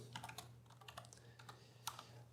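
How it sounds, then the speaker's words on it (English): Computer keyboard typing in a classroom, faint scattered keystrokes at an irregular pace over a steady low electrical hum. "I can find my keyboard here."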